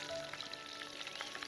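Hot oil tempering with chana dal, urad dal, dried red chilies, curry leaves and a sprinkle of asafoetida gives a faint, steady crackling sizzle, close by and without talk.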